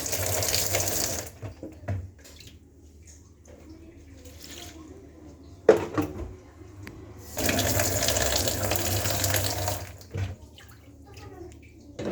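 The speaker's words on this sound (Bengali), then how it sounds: "আর দিয়ে দিব অল্প একটু পানি।" Water poured into a pot of taro leaves being cooked with shrimp, two loud gushing pours separated by a quieter stretch with faint clatter and a sharp knock.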